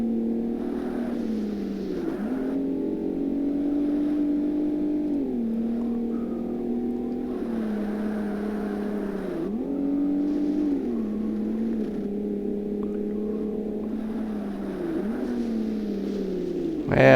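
A race car engine in Forza Motorsport holds a steady drone, climbing in pitch through repeated gear changes and rev swells across the whole stretch, loud and close, with no talk over it.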